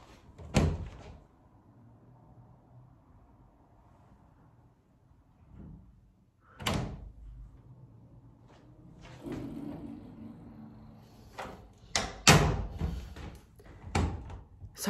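A door is handled and locked in a quiet room: scattered clunks, thumps and sharp clicks, several close knocks bunched toward the end with near-silence in between.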